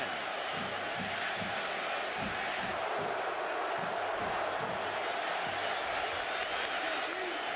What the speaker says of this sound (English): First time the Michigan crowd has come alive in the entire game.